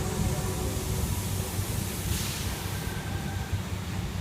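Steady, broad rumble of a Sydney Trains S set pulling away, heard from on board during bad weather, with a continuous hiss and low drone and no talking.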